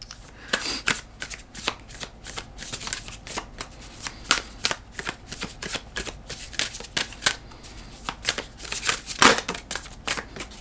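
A deck of tarot cards is shuffled repeatedly by hand at close range, giving crisp riffling bursts and soft slaps in an uneven rhythm.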